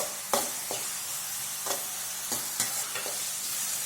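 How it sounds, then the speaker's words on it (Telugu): Onions and garlic frying in a pan, a soft continuous sizzle broken by several quick spatula scrapes and stirs, close and fairly quiet. "1 నిమిషం పాటు ఈ ఉల్లిపాయలను వెల్లుల్లిపాయలు బాగా మెత్తగా అయ్యేంత వరకు వేపుకోండి"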